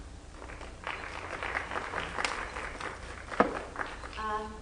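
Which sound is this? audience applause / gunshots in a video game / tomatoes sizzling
audience applause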